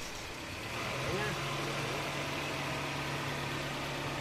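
A first-generation Honda CR-V engine idles with the air conditioning and its auxiliary fan running, giving a steady, continuous low hum with a constant drone throughout and no distinct events.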